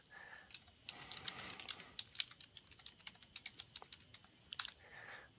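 A chat message being typed on a computer keyboard, quick irregular key clicks with a longer rustle early on, close and fairly quiet.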